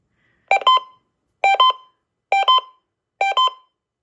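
Four evenly spaced double beeps ring out from a Uniden WX100 weather radio during its statement alert test, each pair sharp, close and loud, separated by clear pauses.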